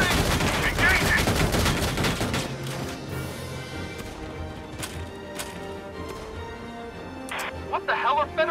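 Rapid bursts of gunfire in the Valkyria Chronicles 4 battle, loud and dense at first, then thinning to scattered sharp shots, with game voices and effects around them.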